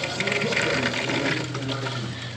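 Water rushing into an underfloor heating manifold as air is purged, a loud, close, turbulent hiss and gurgle over a steady low hum, continuous throughout.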